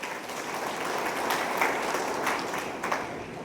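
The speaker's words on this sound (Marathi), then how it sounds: "एकदा जोरदार टाळ्या" Sustained applause from an audience at an anniversary gathering of a credit society, honouring successful students and their parents: dense, even clapping that carries on steadily throughout, moderately loud and without pauses.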